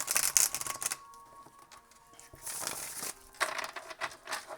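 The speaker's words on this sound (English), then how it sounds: "Let's shuffle one more time." Tarot cards shuffled by hand in short crisp bursts of riffling and rustling, with quieter pauses between two bouts of shuffling and no speech.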